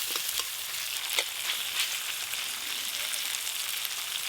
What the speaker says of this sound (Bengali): পেঁয়াজ আর কাঁচা লঙ্কা বেশ ভালো করে ভাজা ভাজা হয়ে গেছে